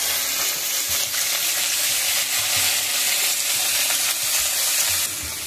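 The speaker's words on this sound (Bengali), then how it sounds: "এবার আমি দিয়ে দেবো পেঁয়াজ বাটা" Potatoes frying in a pan as onion paste goes in, giving a steady loud sizzle with stirring scrapes throughout, a brief softer dip near the end.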